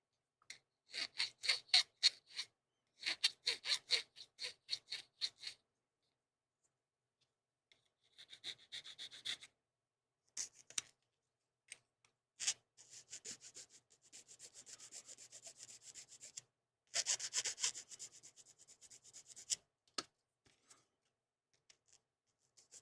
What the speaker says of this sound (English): We take this thing here and sand this a bit, sand this a bit. Just gently rub it until it's gone.